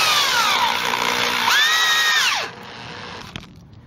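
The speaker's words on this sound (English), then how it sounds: "So you can feel the drill forcing at the end there." A power drill driving a lag bolt into wood whines loudly and steadily, its pitch sagging as it bogs down under load, then cuts out, leaving quiet background hiss.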